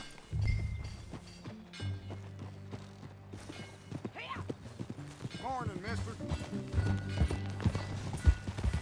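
Steady clip-clop of horse hooves at a walking pace in Red Dead Redemption 2 runs under background music, with a short spoken greeting and a horse whinny partway through.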